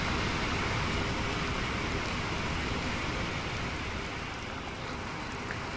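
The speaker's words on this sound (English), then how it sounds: "Has the rain stopped?" Rain falls steadily in the sailing game Sailwind, a constant soft patter and hiss at low volume, with faint water sounds from the boat underneath and no speech.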